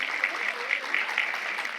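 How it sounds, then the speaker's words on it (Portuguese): Audience applause greets a lecturer at an education talk, a moderate wash of clapping heard alongside a voice speaking over it. "Uma salva de palmas calorosa"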